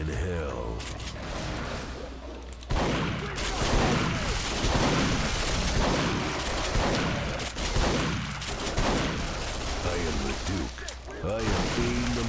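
Rapid bursts of gunfire and booms from a Duke Nukem Forever multiplayer battle, dense and continuous through the scene, with a voice talking over the shooting.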